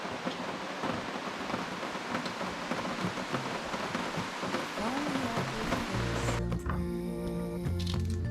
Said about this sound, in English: So it's gonna be a rainy day.